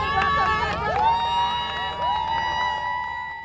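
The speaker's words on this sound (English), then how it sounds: "Teachers, parents, and alumni gather around the entrance and begin to cheer as buses pull up." Teachers, parents and alumni cheer at a school entrance as buses pull up, a close, continuous crowd of shouts and whoops with high rising cries over a busy hubbub.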